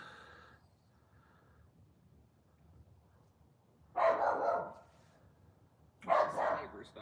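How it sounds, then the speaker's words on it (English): A neighbour's Shih Tzu barks twice, a few seconds apart. Each bark is a rough, fairly loud burst heard from a short distance in an otherwise quiet outdoor setting, with a faint sound at the very start. "This is the neighbor's dog, right?"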